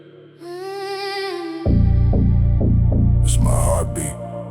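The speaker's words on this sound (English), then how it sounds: "It's my heartbeat." Heartbeat effect in a heavy-bass gym rap track, a deep throbbing pulse thumping in a steady rhythm about twice a second, loud and close over a sustained hum and tonal synth, with no talk.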